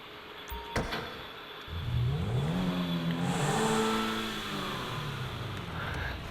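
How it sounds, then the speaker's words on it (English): A Lamborghini Sesto Elemento in GTA V starts up with a quick crank and a rising rev, then settles into a steady, throaty idle at moderate volume with no talking. "I want to show you the startup sound of it"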